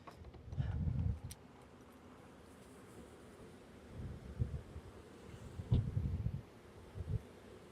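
Buzzing honeybees from a swarm being shaken off into a hive onto comb, with low rumbling bursts of bees and handling thuds recurring every couple of seconds, close and fairly quiet.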